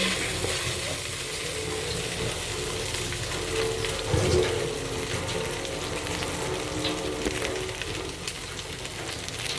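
Ground pork frying in a pan with browned onion and garlic, a steady close sizzle with occasional stirring scrapes and a brief louder clatter midway.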